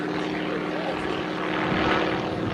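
Propeller aircraft engine roaring steadily at an air show, a continuous loud drone with a slight swell near the end, no clear sputter audible.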